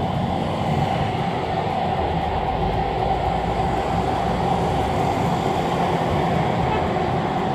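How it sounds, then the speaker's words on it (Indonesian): A Jakarta MRT train passes on the track near Kejagung, a steady, loud rolling rumble that fills the whole stretch with no talking. "Ah, tuh MRT-nya lewat tuh."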